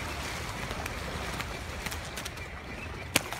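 Thousands of mallard ducks pour into flooded timber, a dense, distant wash of wingbeats and scattered calls with a few sharper, closer bursts.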